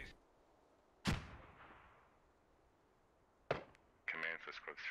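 Mortar rounds in the tactical shooter Squad: two sharp, booming impacts a few seconds apart, the first trailing off in a long rumble, followed by a burst of radio chatter.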